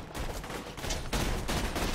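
Rapid gunfire in the co-op video game Borderlands 2: dense bursts of shots that crackle back to back, loud and close, with a brief lull before the volley resumes more heavily.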